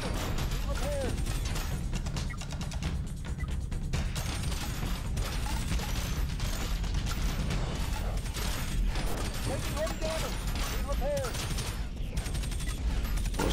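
Plasma cannons in a tactical space RPG video game fire in rapid, repeated bursts of crackling blasts, with a few higher mechanical whines mixed in. A voice talks over the shooting.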